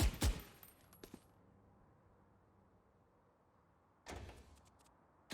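A Phantom rifle in the shooter VALORANT fires two short, sharp bursts close up, separated by several seconds of near silence.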